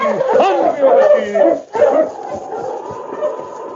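A sled dog team in the Yukon barks, yips and whimpers close by in excited bursts, one short break in the middle, then continuing more loosely, with voices mixed into the noise.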